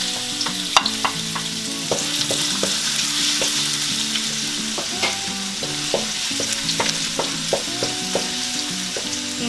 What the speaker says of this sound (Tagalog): pagka mainit na po yung ating oil, ay pwede na po nating ilagay or igisa itong ating bawang